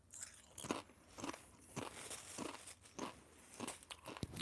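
Potato chips crunch between the teeth in close, quiet bites, a series of sharp crisp snaps spaced roughly half a second apart with soft chewing in between.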